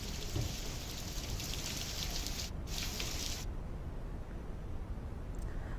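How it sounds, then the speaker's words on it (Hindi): Rain falls steadily in a sudden downpour after morning drizzle, a dense, even hiss of drops on surfaces that stays constant throughout with no voices. "सुबह से ही बूंदाबांदी के बाद अचानक बारिश होने लगी।"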